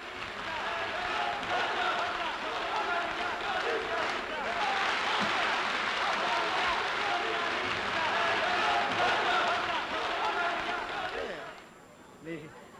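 Sustained audience applause at a French concert by Albania's National Ensemble of Folk Songs and Dances in 1980: dense, steady clapping from a large crowd for about eleven seconds, then quickly dying away.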